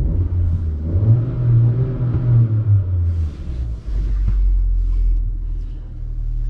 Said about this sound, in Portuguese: Isso dá já a partida, né? É um motor novo para a linha Chery aqui no Brasil.